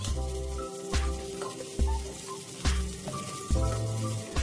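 Finely chopped cauliflower fries in hot oil with turmeric and chilli powder, a steady close sizzle broken by periodic stirring scrapes and louder hissing bursts.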